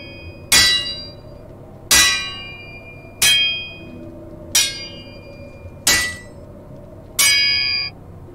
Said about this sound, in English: He's hammering his own head.